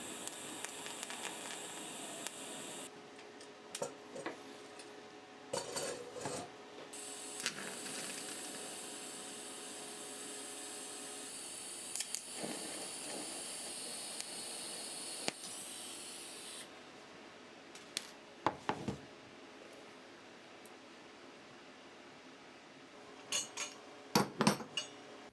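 TIG welding a stainless steel garden fork with rods meant for various stainless grades: a steady broadband hiss runs for long stretches, broken by brief gaps, clicks and sharp metallic knocks, with no talking.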